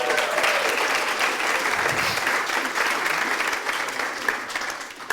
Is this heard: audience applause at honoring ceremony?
yes